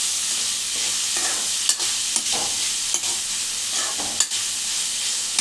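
Cluster beans frying with salt in a pan give a steady, close sizzle, broken by sharp clicks and scrapes of stirring every second or so, with no voices.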